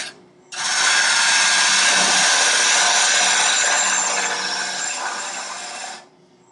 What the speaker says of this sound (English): This is a pure scrape.